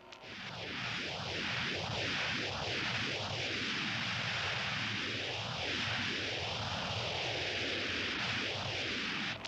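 A science-fiction spacecraft comes in to land with a loud, continuous roar of rushing noise. A wailing siren-like tone sweeps up and down over it again and again.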